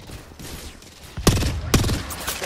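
Gunfire in the video game Apex Legends, with two sharp, loud bursts about half a second apart rising over a steady background of game noise.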